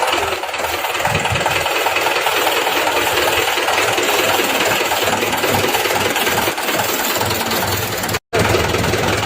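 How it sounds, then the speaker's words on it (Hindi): A tractor engine chugs steadily while being driven, a loud continuous mechanical rattle and knock with a rough rhythmic low-end pulse, running throughout with a brief dropout near the end. "आज मैंने पहले बार ट्रैक्टर चलाया है"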